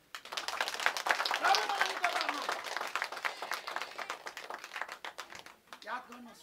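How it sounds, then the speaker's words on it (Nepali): A church congregation claps together during a worship service, a dense burst of many hands that gradually thins out, with a voice speaking over it. "ताली बजाउनुहोस्।"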